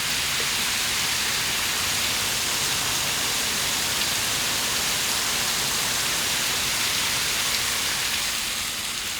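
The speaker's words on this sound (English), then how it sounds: "Listen to the rain." Steady rain falls throughout as a dense, even wash of hiss, close and fairly loud, with no voices or other sounds breaking through.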